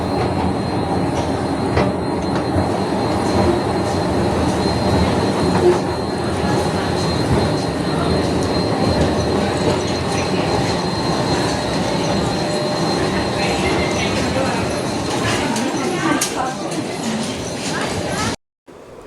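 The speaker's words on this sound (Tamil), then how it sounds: "பாருங்க, ட்ரெயின் வந்துடுது." A Chennai local train pulls into Tambaram station with a loud, continuous rumble of wheels and carriages and faint squealing, while people talk over the din.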